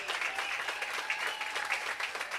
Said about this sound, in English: Give the history of Cinco de Mayo a big round of applause.